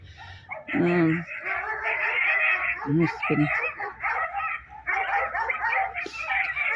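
Dogs, including a shepherd dog, bark and yip in short bursts close by while someone talks almost continuously over them.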